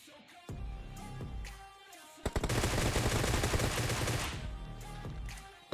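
Rapid automatic gunfire from the mobile battle royale game BGMI bursts in loudly for about two seconds amid quieter in-game sounds, with a few single shots leading into the sustained burst.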